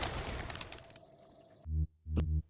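Singing bird in the video game Colossal Cave: a chirpy trill, then two low, soft cooing notes.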